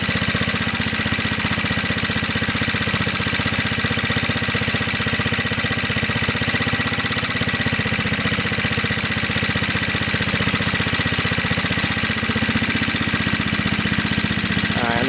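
An antique Onan PE-88 Signal Corps generator engine idles at a lowered no-load speed, a loud, close, steady rhythmic chugging with constant vibration throughout.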